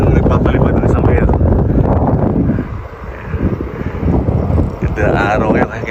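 Strong wind gusts buffet the microphone in an open provincial park where kites are flown, a loud, continuous roaring rumble that dips briefly and surges again, with a voice talking over it.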